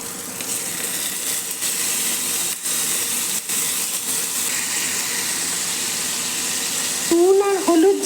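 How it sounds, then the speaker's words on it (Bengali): Fish slid into hot mustard oil seasoned with salt and turmeric fries with a loud, constant sizzle that swells briefly near the end, with a faint tap or two. "দেখো আমার তেলটা গরম হয়ে গেছে, এর ভেতরে মাছগুলো দিচ্ছি"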